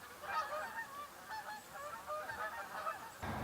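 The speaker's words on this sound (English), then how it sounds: "the Canada geese have been flying over top pretty steady" Canada geese honk repeatedly as they fly overhead, a steady chorus of overlapping calls at moderate distance over faint outdoor background.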